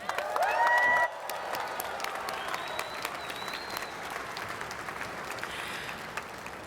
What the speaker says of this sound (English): How about another rousing round of applause?